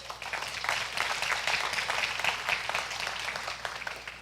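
A church congregation claps steadily, a dense patter of applause that holds at an even level throughout.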